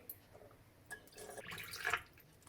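Water from a one-litre measure poured through a funnel into the salt chamber of a Voltas Beko table-top dishwasher, a faint trickling and dripping that swells toward the end, with no talk.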